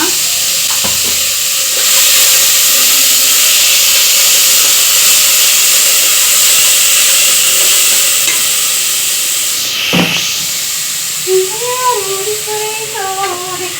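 Field beans (avarekalu) cook in a pressure cooker, giving a steady loud steam hiss that fills the scene, with a brief sharper burst midway and faint clinks near the end.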